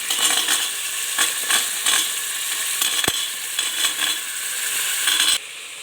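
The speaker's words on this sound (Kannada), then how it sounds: "ಈಗ ಒಗ್ಗರಣೆಗೆ ಈರುಳ್ಳಿ ಜೊತೆಗೆ ನಾನು ಹಲಸಿನ ಬೀಜ ಇದ್ದೀನಿ" Chopped onion and jackfruit seeds fry in hot tempering oil for a home-cooked curry, with a loud continuous sizzle, crackling bursts, and a sharp metallic tap as the pan is stirred.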